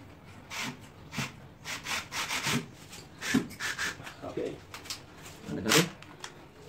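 An IKEA hand drill driving a screw; several short, uneven bursts of whirring and grinding start and stop, close by, with faint talk in the background.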